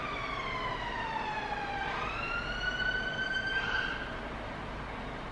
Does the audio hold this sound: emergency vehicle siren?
yes